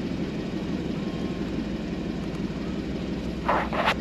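A 2014 Porsche 981 Boxster S engine, warmed up, idles with a steady low rumble throughout, even and continuous, with a couple of brief higher whooshes near the end.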